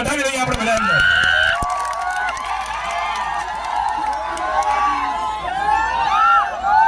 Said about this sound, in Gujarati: એકવાર જોરદાર તાળીઓ ગણગાટથી વધાવી દઈએ આપણે બધાને